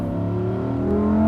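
A Lamborghini Huracan Sterrato engine revs hard under full throttle with a cylinder bank off, a loud, close, rising harmonic roar that climbs steadily in pitch through the whole burst.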